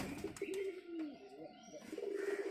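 Pigeons coo in a steady series of low, throaty calls, fairly close, with a few faint chirps behind them and no talking.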